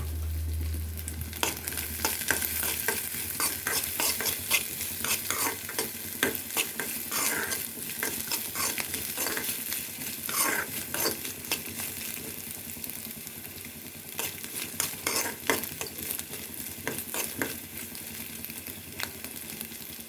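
Coconut pieces sizzle and crackle in hot ghee, with scraping and stirring strokes against the pan repeating throughout, no voices.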